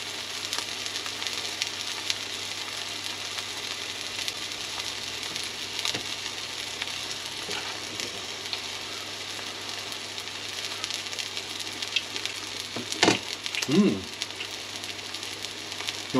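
M&S duck burgers fry in a pan with a steady, close sizzle and hiss, broken near the end by a few louder crackles and a scrape.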